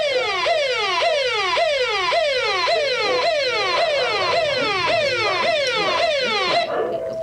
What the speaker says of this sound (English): We're going to set off a siren and see how he responds.